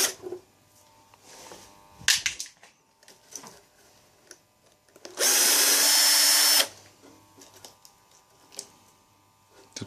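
A cordless drill-driver runs in one steady, loud burst of about a second and a half, unscrewing fasteners from an electric water heater boiler, with quieter clicks and handling noises before and after.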